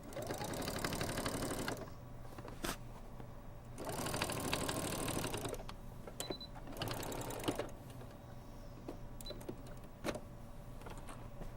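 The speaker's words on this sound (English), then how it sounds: "It's like it's locked onto your sewing machine." A sewing machine whirs in several loud rapid bursts of stitching, separated by pauses with clicks and faint handling noises.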